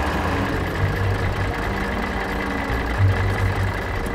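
A truck engine idles with a steady low rumble and hum, running continuously without any pauses. No one speaks over the sound.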